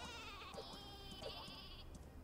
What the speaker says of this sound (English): What are you doing with that sheep in there?